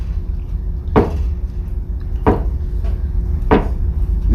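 Three sharp, evenly spaced knocks on a hard surface, each a single loud thud roughly a second and a quarter apart, struck to imitate the knocking sound of a heart, heard alone without talk.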